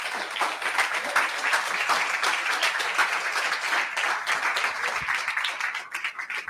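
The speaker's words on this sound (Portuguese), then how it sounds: "Dê um aplauso a Jesus." A church congregation at an evening service applauds together, a dense, loud, sustained wash of clapping that fades slightly toward the end.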